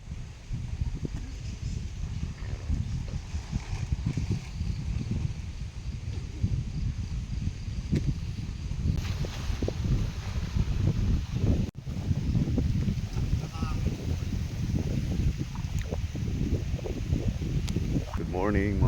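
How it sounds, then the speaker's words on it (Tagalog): Strong wind sweeps across a seaside pier, buffeting the microphone with a steady, loud low roar and gusty rumble that lasts throughout, with people's voices faintly mixed in. "Grabe ang hangin dito oh."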